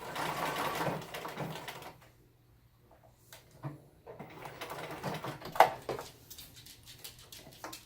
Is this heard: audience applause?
no